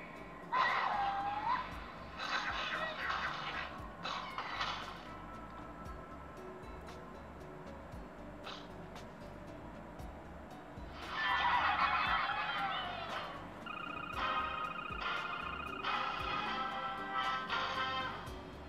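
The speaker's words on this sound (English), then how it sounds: "So this is all about Angry Birds" Angry Birds game sounds play from a Huawei Ascend Y200 phone: bursts of squawking bird calls, whistles and tones come in clusters separated by quieter gaps, fairly faint and tinny, with no voices.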